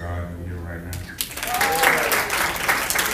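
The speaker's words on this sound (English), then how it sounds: "Can we get a round of applause for God in here right now?" A church congregation at a wake and viewing service breaks into applause after a brief moment of speech, and the clapping builds and carries on steadily to the end.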